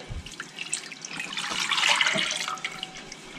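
Red fruit juice pours steadily into a pot for jelly making, a continuous splashing, trickling stream that swells slightly midway and carries on without talk.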